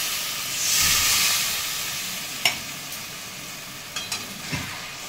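Water poured onto bhola fish masala frying in a pan sets off a loud, broad sizzling hiss that swells and then settles. A few sharp clinks follow near the end, and no one talks.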